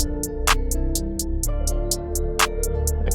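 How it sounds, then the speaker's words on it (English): Crisp hi-hat MIDI pattern laid over a looping guitar beat, with quick ticking hits repeating steadily and a few louder accented strikes on top of sustained guitar chords; no voices. "Let's drag in a hi-hat MIDI from the pack as well."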